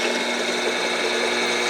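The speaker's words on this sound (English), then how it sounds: "Now I like to use a slow drill speed." A power drill runs slowly through an aluminum heel guard for a Yamaha R1 motorcycle. It gives a steady, dense whir with no pauses, close to the microphone and with no voice over it.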